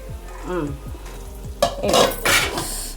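Spinach masala is poured into rice in a pan, with rhythmic metal spoon scrapes and clinks against the pan followed by louder bursts of clatter and a brief sizzle, close and without speech.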